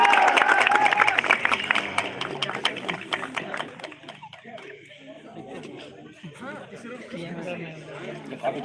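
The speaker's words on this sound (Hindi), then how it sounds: "तालियां इनके लिए, तालियां।" Audience applause for prize winners at a 2021 sports closing ceremony in Vijaynagar. Dense clapping and crowd chatter are loudest at first, then thin into scattered claps under murmuring voices.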